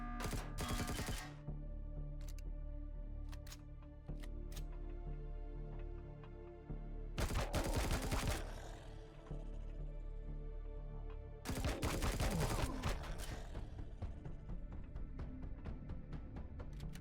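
Bursts of weapon fire aimed at a console in the space survival game Empyrion, with three loud clusters of rapid shots over a steady low machine hum, plus scattered single cracks in between.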